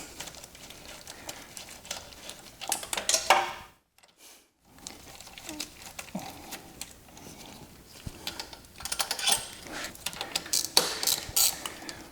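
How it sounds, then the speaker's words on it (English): A ratchet works loose the bolt nuts on a Mazda RX-7 FD during an intake air thermosensor repair, with close, rapid clicking bursts repeated in several runs and short pauses between them. "we're gonna go ahead and take off 4 of these bolt nuts"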